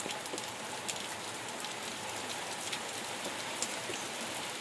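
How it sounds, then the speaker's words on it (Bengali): Heavy cyclone rain in the Sundarbans at Patharpratima, pouring down steadily and densely near a house and cattle shed, a continuous loud hiss with scattered sharper drop impacts and no voices. "উপর থেকে বৃষ্টি পড়ছে"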